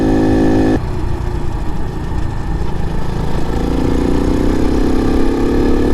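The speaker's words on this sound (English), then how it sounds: "But it almost sounds like it could rev a little higher if it had a bigger carb." An Ice Bear Honda CT70 clone minibike engine runs close and loud, its steady tone cutting to a rougher idle, then rising gradually as the throttle opens and the revs climb.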